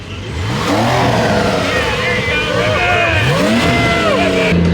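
A sports car leaving a supercar gathering revs its engine loudly and close by, the pitch climbing and falling in repeated surges, with voices in the background.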